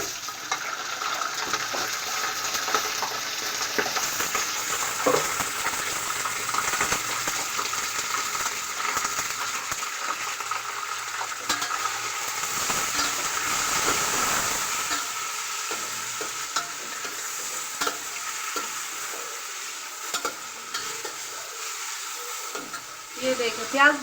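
Chicken frying in a pot with browned onions, for a village-style chicken pulao; a steady broadband sizzle runs throughout with intermittent stirring and scraping clatter, fairly close and with no talking.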